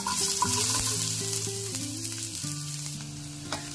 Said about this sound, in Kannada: ಇದಕ್ಕೆ ಈರುಳ್ಳಿನ ಒಗ್ಗರಣೆಗೆ